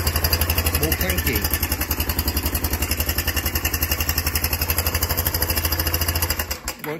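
A Kawasaki KLF Bayou 300 ATV engine runs rough and lumpy with no fuel tank fitted, a close, loud, rapid uneven chugging that continues steadily and then stumbles and cuts out near the end.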